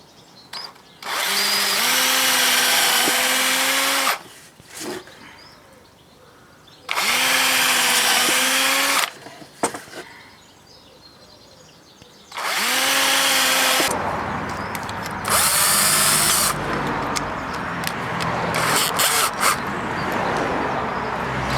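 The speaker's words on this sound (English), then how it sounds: "So I'll put a couple of holes in it." A power drill boring holes into scrap wood, with three loud bursts of whining motor and bit grinding separated by short pauses, followed by a rougher stretch of rattling and cutting.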